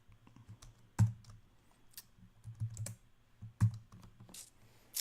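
A Linux command is typed on a computer keyboard: quiet, irregular key clicks with a few louder presses, close by and without talk.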